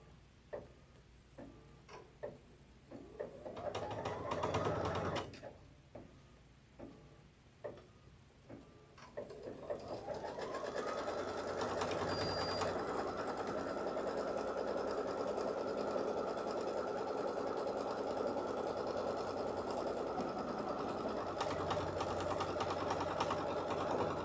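Embroidery sewing machine stitching a fabric border in a hoop, starting with scattered ticks and short whirring bursts, then settling into a steady continuous mechanical hum with rapid stitching, close and fairly quiet, no talking.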